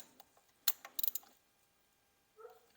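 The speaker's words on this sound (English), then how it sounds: "I like to use a little bitty wrench, that way I'm not putting too much on it." A small wrench turns a steel spark plug into the aluminum head of an NA6 Miata, giving a few quick metallic ratchet clicks close by, then a pause and a faint soft knock.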